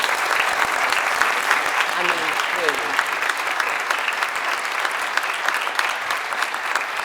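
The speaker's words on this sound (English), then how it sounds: "I think we ought to give them a round of applause." Audience applause for Nobel laureates at a panel discussion, a sustained wave of clapping filling the room, with a few voices briefly speaking over it.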